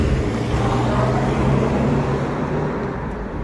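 A car pulls up at a gate, its engine giving a steady close rumble that eases slightly toward the end, with no voices.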